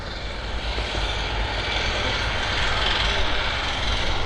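A WW2 tank powered by an R975 radial aeroplane engine drones steadily at a distance, a continuous broad roar holding even for several seconds with no break.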